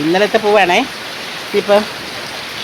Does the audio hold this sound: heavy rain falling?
yes